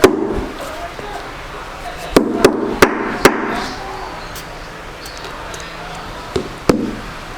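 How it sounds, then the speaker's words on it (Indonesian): Hammer blows on the 1 mm steel toe cap of a Navigo SW2 safety shoe: several sharp knocks, a quick run of four then two more later, close and fairly loud over a noisy background. "Ini kita coba palu ya."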